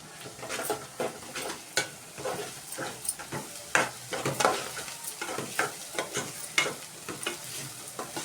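Food fries in a pan seasoned with chili powder and salt, giving a soft, steady sizzle broken by repeated stirring scrapes and clinks. It sounds close and fairly quiet, with no voices.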